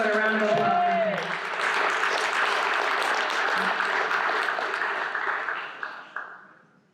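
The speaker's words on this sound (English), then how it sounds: "a round of applause for Finch." Banquet audience at a high school sports awards event applauds for an absent boys' award winner, a dense, steady wash of clapping that fades out toward the end, with some voices mixed in at the start.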